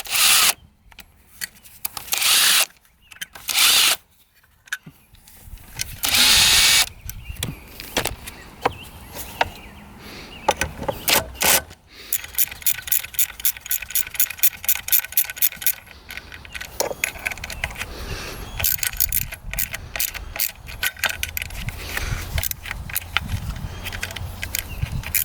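A hand tool works on a bracket on an old, abandoned fishing boat left rotting outside: bursts of scraping, clicking and ratcheting metal noises come in irregular spurts with pauses between, fairly close and unaccompanied by speech.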